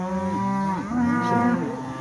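Cattle on a drive to a farm bellow in loud, drawn-out moos, one long call sliding and wavering, close by with no talk.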